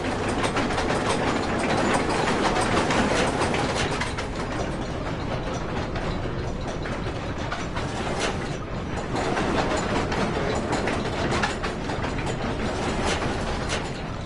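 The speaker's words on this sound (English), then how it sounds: "I've got to slow down the rotor before I can actually block it" A loud, steady mechanical whirring and rattling drones on without a break, like a big rotor or gears spinning close by.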